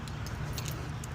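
Old-style car keys for a 1986 Pontiac Fiero GT jangle steadily close by, a thin metallic clinking over a low background hum.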